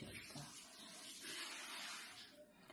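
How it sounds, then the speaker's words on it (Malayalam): Boiling water is poured into rice flour for idiyappam dough, a steady, soft, continuous pouring stream lasting a few seconds, fairly quiet and close. "വെള്ളം ഒഴിച്ച് കൊടുക്കാം"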